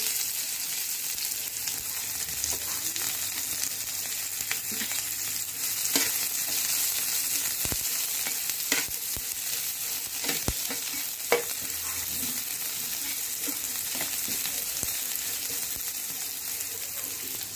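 Cumin and chopped onion frying in oil in a pan for a paneer curry, a steady hiss of sizzling with scattered scraping taps of stirring, close and without speech.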